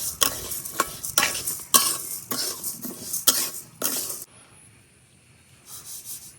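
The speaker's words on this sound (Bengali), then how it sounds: "ডালগুলা ভাজা হয়ে গেছে" Red lentils and mung dal dry-frying in a wok, stirred with a utensil in repeated scraping, rustling strokes about every half second, close, then a quieter pause.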